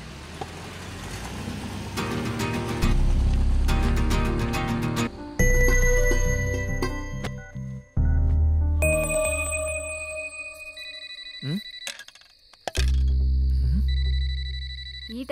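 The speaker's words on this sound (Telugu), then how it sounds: "ఈ టైంలో తినేటప్పుడు ఫోన్ ఎవడయ్యా?" A phone ringtone rings repeatedly during a meal, a bright melodic tone sounding close and fairly loud in short phrases over a low background, with a few pauses between bursts.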